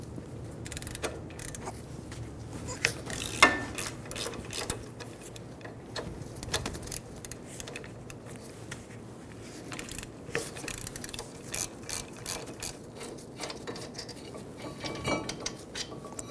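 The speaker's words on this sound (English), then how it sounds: "Using a 15mm socket, remove the caliper bracket bolts." Ratchet with a 15mm socket undoing caliper bracket bolts on a 2000-2007 Ford Focus, giving faint clicking and metallic clinks scattered through a quiet workshop.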